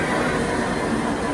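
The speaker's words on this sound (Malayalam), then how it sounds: "അങ്ങനെ പോകാനുള്ള മെട്രോ വന്നു." A Kolkata Blue Line metro train rumbling into a station, a loud dense wash of wheel and motor noise close by, steady and continuous without talk.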